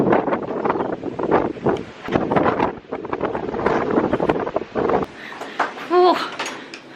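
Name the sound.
strong wind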